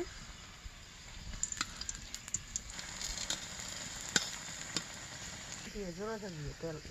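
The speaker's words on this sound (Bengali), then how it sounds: "তাওয়াটা গরম হয়ে গেছে, তেল দিয়ে দিব। এখন এটা উল্টিয়ে দিব।" Mughlai paratha fries in oil on a hot tawa over a clay stove, giving a steady close sizzle with scattered crackles and pops; a voice speaks briefly near the end.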